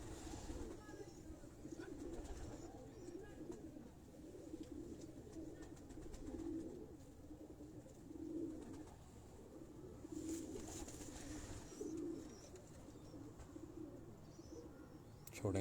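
Pigeons, including a golden pigeon, coo in soft, repeated low rolls, faint and steady against a quiet background, with occasional brief rustles and a voice nearby.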